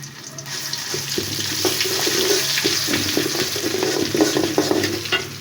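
Panch phoron and ginger garlic paste frying in mustard oil, a dense close sizzle and crackle with rhythmic scraping of a spoon through the pan.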